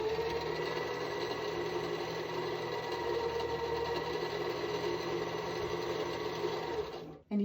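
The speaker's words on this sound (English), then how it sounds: "use the foot pedal to start winding" Sewing machine winding a bobbin with a steady, even whir that holds at constant level for about seven seconds before cutting off abruptly, followed by a short bump.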